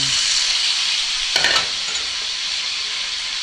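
Onion frying in a pan for sotong kicap, a steady loud hiss of sizzling oil with a brief scrape of stirring partway through.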